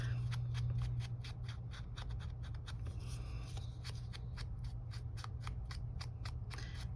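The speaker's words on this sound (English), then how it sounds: "I'm probably gonna cut these edges off, but that's okay." Scissors trim the edges of paper during a journal ephemera craft project, with quick close snips repeating steadily in a soft, quiet room.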